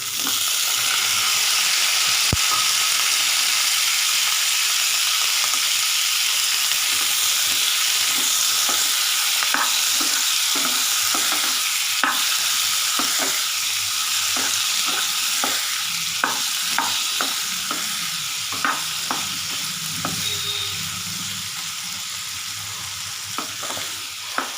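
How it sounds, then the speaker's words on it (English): Tomatoes fry in a pan for a restaurant-style paneer butter masala, a constant loud sizzle overlaid by frequent spatula scrapes and clicks as the mixture is stirred, busier in the second half. "Let the tomatoes fry for at least 2 minutes"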